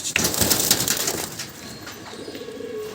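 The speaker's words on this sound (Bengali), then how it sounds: "এই পিছনে একটা নর পায়রা এটা মাদি পায়রা" Madrasi pigeons, male and female, coo softly amid rustling and scuffling, with a low, steady cooing rising near the end; no voices.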